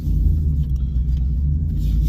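Engine with an AWE exhaust, long-tube headers and an aftermarket cam, idling in a deep, steady low rumble, close and continuous with a slight swell as the car pulls out of a driveway.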